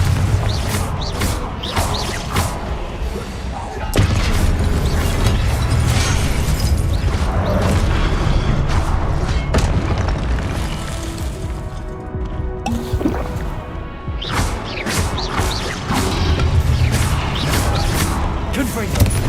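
Booming spell blasts from the Confringo curse in the Hogwarts Legacy video game, repeated bursts over a dense, loud mix of game music and effects, with a voice speaking throughout.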